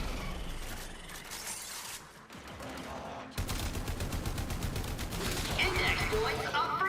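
A slow-firing gun in Warframe fires steady, evenly spaced shots that grow denser and louder midway through, set against ongoing game effects and someone talking over the action.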